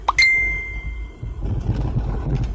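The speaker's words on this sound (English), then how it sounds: "My boyfriend just texted me." Short bright notification ding from a phone receiving a text message, two quick tones near the start, heard from inside a car on a Sunday drive with low road rumble underneath.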